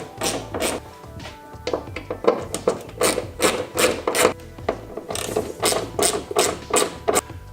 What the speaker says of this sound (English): don't over torque these. They're just small bolts.